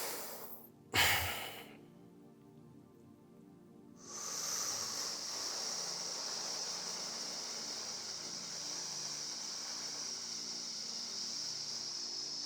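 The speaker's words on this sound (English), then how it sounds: "now I'm just breathing loud that you can hear it" Loud, deep breathing close to the microphone: a sharp inhalation burst near the start, a short quiet pause, then one long, steady, hissing breath that holds for about eight seconds.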